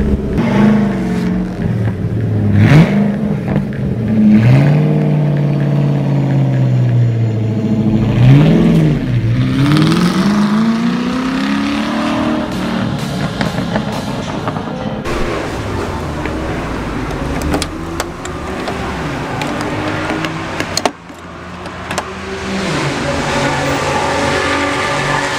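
A 2018 Ford GT's engine revs hard while driving, with loud repeated climbs and drops in pitch as it accelerates and shifts, followed by a steadier roar.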